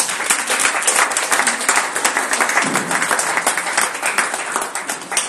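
A church congregation at a Wednesday worship service breaks into sustained applause, dense and continuous clapping close by for the whole stretch, with voices faintly mixed in.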